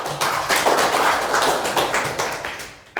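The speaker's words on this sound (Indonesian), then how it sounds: "Tepuk tangan untuk kalian semua." A classroom of students breaks into applause, a dense, steady wash of many hands clapping close by for about three seconds before it cuts off.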